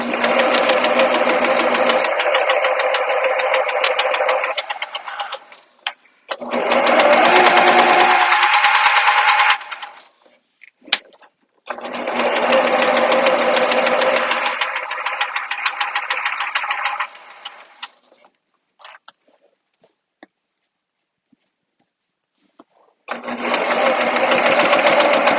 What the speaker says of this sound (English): at the D-ring, I'm going to sew twice. So I'm going to backstitch there.